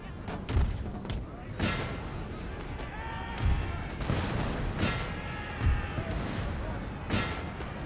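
Cannon and musket fire from a Napoleon: Total War battle, repeated booming thuds and crackling volleys spread across the clip, with battlefield din between the shots.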